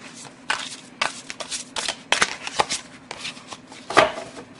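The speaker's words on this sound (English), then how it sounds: "These are shuffleable multiple ways." Tarot cards are shuffled by hand in several bursts, crisp papery riffles and slaps repeating close by, with brief pauses between rounds and no one speaking.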